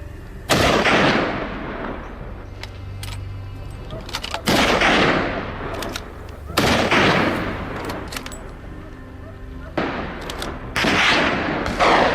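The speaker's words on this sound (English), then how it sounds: "we moved swiftly into position and opened fire in rapid succession" Rapid gunfire aimed at wild boars on a farm, several loud, close volleys of shots in quick succession, each burst trailing off into echoing rumble before the next, with no talking.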